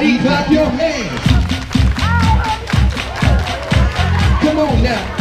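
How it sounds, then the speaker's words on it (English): Rhythmic thumps and claps in a steady beat, likely a crowd clapping along at a Walmart grand opening in Kissimmee, Florida, with loud music and cheerleaders nearby. "Everybody clap your hands."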